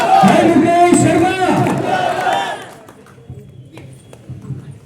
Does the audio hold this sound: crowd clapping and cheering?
yes